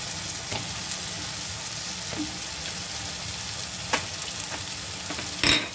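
Chopped eggplant frying in a hot pan, a steady close sizzle with occasional stirring scrapes and a louder clatter near the end, with no talking.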